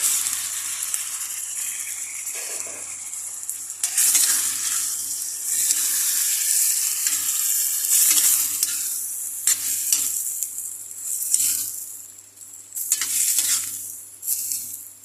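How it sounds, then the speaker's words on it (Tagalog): Shrimp go into a hot pan and fry with a steady, loud sizzle while a utensil stirs and scrapes through them, the hiss continuing for the whole stretch with bursts of stirring clatter. "Lagay na po natin yung hipon."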